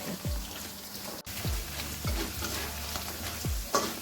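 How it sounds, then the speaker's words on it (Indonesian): Oil sizzles steadily as jengkol fries over medium heat, with a spoon or spatula scraping and stirring in the pan every second or so, close by. "Jika kalian menggoreng jengkol, menggunakan api yang sedang ya, jangan terlalu besar"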